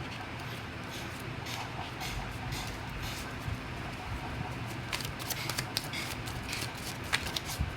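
Tarot cards are shuffled by hand in continuous, close-up riffling and rustling, with sharper card snaps toward the end.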